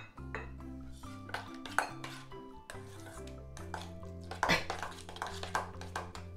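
Greek yogurt and mayonnaise stirred together in a bowl, with soft spoon clinks and scrapes tapping irregularly against the bowl, faint and close over a steady low background hum.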